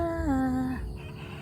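A single rooster crow rings out, a drawn-out call that falls in pitch and then fades, with soft background noise.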